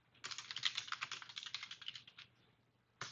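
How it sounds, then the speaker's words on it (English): Typing Python code on a computer keyboard: a quick, uneven run of light key clicks lasting about two seconds, close and clear, then a pause and a final click. "we'll need to type in the line to remove our column."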